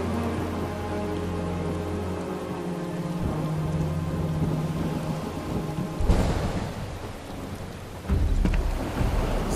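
Heavy rain pours steadily in Final Fantasy VII Rebirth, a dense close wash with deep rolling thunder rumbling underneath and a louder low crack near the end.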